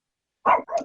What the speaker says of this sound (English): Sounds like a very excited dog.